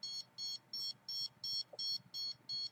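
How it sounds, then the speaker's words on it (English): An electronic alarm gives eight evenly spaced, shrill beeps, each about a quarter second long, sounding clearly over a quiet background. "Yeah, triggers the alarm."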